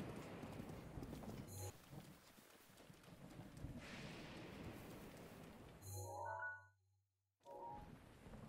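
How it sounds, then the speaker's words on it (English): Hoofbeats of a horse galloping in Zelda: Breath of the Wild, a steady rhythmic clip-clop at moderate level with game effects, dropping briefly to near silence before resuming. "Let's go shitty horse."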